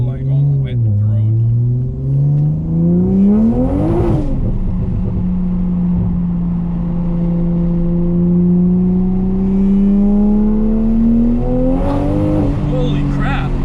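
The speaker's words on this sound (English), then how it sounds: "First time driving it on race gas. I wonder how hard it will pull like on wet road." Toyota Supra from 2020, tuned to about 670 wheel horsepower and running on race gas, accelerating hard on a wet road, its engine tone climbing loud and close through gear changes, with people talking inside the car.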